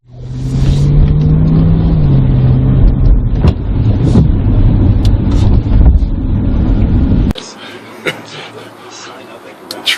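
Car engine droning from inside a moving vehicle, a steady close hum with a shifting engine tone, changing to quieter road noise after a few seconds with faint clicks.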